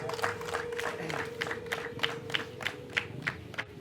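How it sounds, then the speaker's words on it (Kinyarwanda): Wedding guests clap in a steady rhythmic beat, sharp handclaps evenly spaced and moderately distant, over a low murmur of crowd voices. "Umuryango no gukomera amashyi wa pro."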